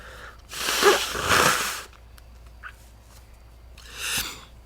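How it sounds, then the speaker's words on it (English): Two forceful, noisy nose blows close up, each a rough burst of air lasting under a second, followed by a softer snort a moment later. "let me blow my nose one more time"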